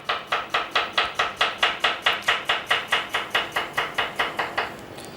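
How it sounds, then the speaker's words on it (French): Rapid, even knife chops mincing a shallot on a cutting board, around twenty crisp strikes in a steady rhythm, close and without talk. "On émince l'échalote."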